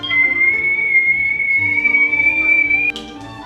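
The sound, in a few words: stove kettle whistling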